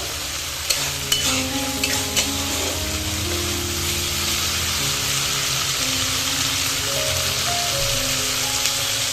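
Spice paste frying in oil in a pan for a fish curry, a steady close hiss of sizzling with a few early clicks of stirring against the pan.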